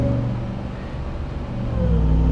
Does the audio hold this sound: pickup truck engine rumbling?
yes